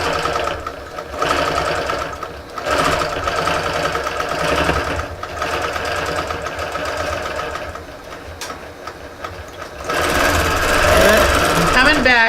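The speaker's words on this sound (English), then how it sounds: "I just go along stitching this about 1/4 of an inch from the edge" A longarm quilting machine on a frame stitches binding onto a quilt about a quarter inch from the edge, humming and rattling in rapid steady bursts with brief pauses, loud and close, as a voice talks over it.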